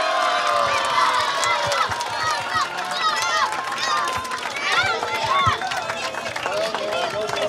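Fans at a youth football awards ceremony cheer loudly for a young goalkeeper, a steady roar of crowd noise with excited children's shouts and yells rising and falling throughout.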